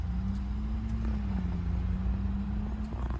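A car engine idles roughly at about 700 RPM, producing a steady, close, low droning hum with a slight wavering rumble and no pauses.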